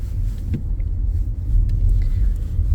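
Car engine driving uphill on a snowy mountain road in freezing conditions, a steady low rumble close to the microphone with no talk.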